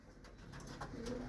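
A racing pigeon coos softly at the loft after completing a race from Matnog, a faint low call under quiet outdoor background noise.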